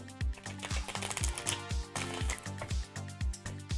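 Tarot cards being shuffled in quick, even taps and riffles, about eight soft clicks in a steady rhythm, close and fairly quiet with no voice.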